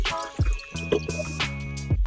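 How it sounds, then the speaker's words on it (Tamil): Water pours into a bucket, about 2 litres, for making washing gel, with a close, gurgling, splashy fill and bubbly drips over a couple of seconds, no talk. "இப்போ ஃபர்ஸ்ட் வந்து இதில் ஒரு 2 லிட்டர்ஸ் வாட்டர் ஊற்றிடுவோம்."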